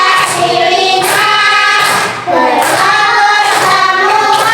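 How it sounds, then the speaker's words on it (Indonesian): A class claps hands together in a steady rhythm, sharp repeated claps running beneath voices chanting together throughout. "tepuk jadi dua, tepuk jadi tiga, tepuk jadi empat, tepuk jadi lima"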